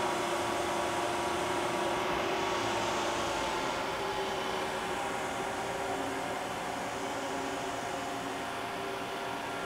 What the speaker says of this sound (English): we have our internal grinder here, the ID spindle. I'll start that for you.